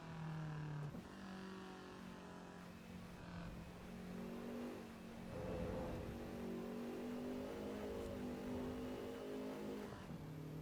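Engine of an underpowered hot hatch revving steadily in the Assetto Corsa EVO racing game, a loud, continuous drone climbing and shifting pitch through gear changes, with no talk over it.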